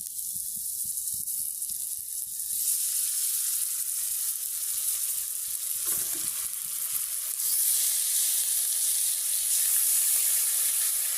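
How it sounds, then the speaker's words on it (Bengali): Pieces of pangas fish frying in hot oil in a pan, a loud steady hiss and sizzle that swells after the fish goes in, with occasional stirring, close and alone. "মাছগুলো দিয়ে দিলাম, দেওয়ার পরে এখন আবার নাড়তে হবে।"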